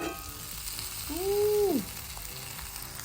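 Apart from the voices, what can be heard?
papaya vegan salmon frying in pan after flipping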